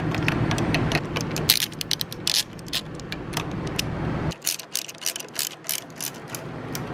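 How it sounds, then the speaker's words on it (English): A ratchet fitted with a 5mm socket on an extension clicks rapidly up close while backing out the tank bolts on a Yamaha FZ6R motorcycle, with bursts of quick pawl ticks, a brief pause, then more ratcheting. "Now you remove these two bolts to lift the tank up. To do that, again, use your 5mm socket."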